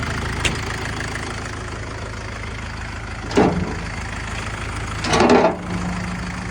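A 50-horsepower diesel tractor engine idles with a steady low rumble, with two brief louder surges or revs partway through, close and loud.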